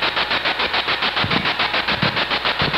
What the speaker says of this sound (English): You want me to turn the spirit box off?